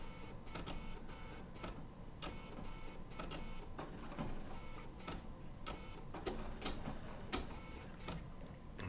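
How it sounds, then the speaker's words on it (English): A Bernina B790 PRO sewing machine with an open-toe foot stitches wool appliqué in short bursts controlled by the foot pedal, a faint, close mechanical whirring with irregular clicking pulses and no talk. "And just by using my foot control, I can place these stitches exactly where I want them."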